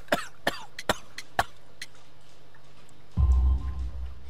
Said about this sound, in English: You have a severe cough.